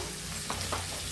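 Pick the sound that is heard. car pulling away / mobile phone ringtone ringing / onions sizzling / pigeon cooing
onions sizzling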